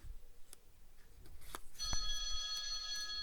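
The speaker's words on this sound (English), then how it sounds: "And the phone's ringing." After a few clicks and taps, a bright electronic telephone ring starts and continues steadily, moderately loud in a quiet room.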